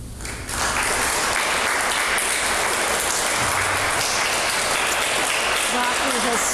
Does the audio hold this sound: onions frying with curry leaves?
no